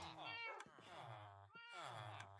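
A cat meows repeatedly in a Minecraft game, three drawn-out, tonal meows in quick succession, loud and close, with no talking over them.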